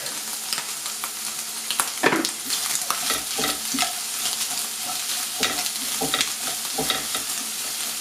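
Onion sizzles in a hot pan with butter for bigos, a loud continuous frying hiss broken by repeated scraping stir strokes and clatters, with no voices.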